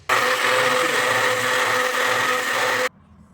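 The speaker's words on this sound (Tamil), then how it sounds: "ஆறுனதுக்கப்புறம் மிக்சியில் கொஞ்சம் அடிச்சிடணும் தான்" A mixer grinder blends mint chutney in one loud, steady whirring burst of nearly three seconds, then cuts off abruptly into near silence.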